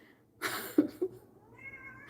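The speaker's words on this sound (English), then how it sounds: "there's my kitty, Freya" A pet cat meows, a short drawn-out call rising out of near silence, with a couple of soft vocal bursts and a faint tonal trailing sound afterward, close and fairly quiet.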